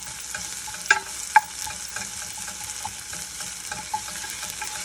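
Thinly sliced shallot frying in a pan, a steady soft sizzle with a couple of sharp utensil clicks near the start, close and without talk.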